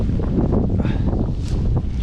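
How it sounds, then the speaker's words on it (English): Wind gusts across exposed gritstone edge at Stanage Edge in the Peak District, loud rumbling buffeting against the microphone for the whole moment with brief swells. "A little bit wet and windy."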